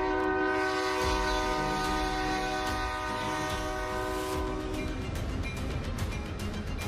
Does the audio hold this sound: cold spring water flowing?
no